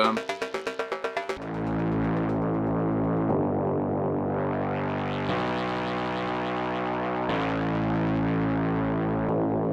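An Ableton Live 12 Drift synthesizer plays a rapid staccato pulse, then sustained chords with distortion, chorus and effects that shift in brightness across several held changes.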